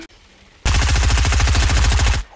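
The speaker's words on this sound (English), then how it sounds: "These guys are using shotguns" Loud, rapid gunfire in the Fortnite Battle Royale video game, shotguns among the weapons, rattling as one continuous burst of about a second and a half after a quiet start, with no talking.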